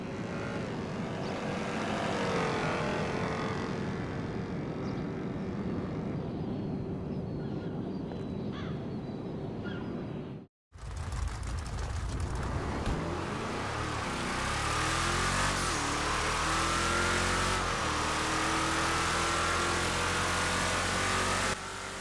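Engine roar of the X821 supercar in GTA Online, loud and continuous, building in pitch as it revs, cutting out for a brief moment midway, then returning louder with rising, sweeping whine.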